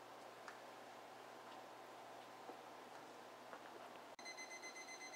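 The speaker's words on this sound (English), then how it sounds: "you can hear the timer going off." A kitchen timer starts to go off near the end: a steady, faint electronic beeping tone cuts in after a few seconds of quiet, soft ticking and room hiss.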